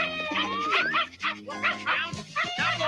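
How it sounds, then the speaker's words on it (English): A dog barks and yips a few times inside a retro television commercial, the barks mixed with music and a busy soundtrack while voices talk throughout. "What, you thieving dog?"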